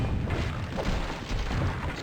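Magic missiles in Hexen 2 smash through a wooden barrier, giving a couple of dull, booming impacts over continuous rumbling game noise.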